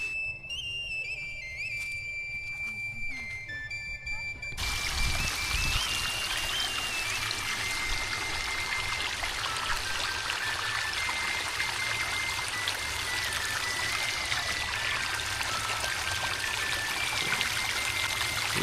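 Water pours and trickles steadily from a hose or can onto cucumber and yardlong bean plants in a village garden, a continuous close splashing stream with a faint whistle-like tone running over it.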